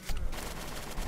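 Gunfire in a Roblox zombie video game, a dense burst of rapid shots with a steady loud crackle filling the clip, no talking.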